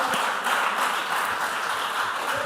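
Audience applauding a junior high school team at a school quiz semi-final, steady dense clapping filling the whole stretch with no voices over it.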